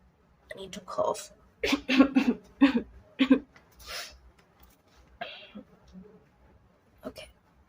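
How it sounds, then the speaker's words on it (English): Several close coughs and throat-clearing sounds come in a short cluster, followed by quieter breaths and scattered noises. "I need to cough."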